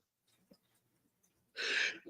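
A single sharp sneeze bursts out close by after a stretch of quiet breathing and faint rustling, followed by a short softer breath.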